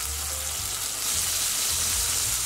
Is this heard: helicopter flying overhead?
no